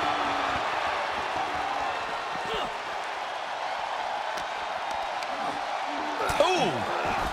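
A virtual crowd cheers through a tag-team match in a WWE 2K24 arena, a steady roar of noise under ongoing talk, with a sharper rise of crowd sound near the end.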